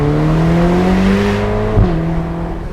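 A Ferrari Portofino accelerates flat out in first gear, its engine note climbing loud and steady, then dropping sharply at a gear change near the end with a brief thump.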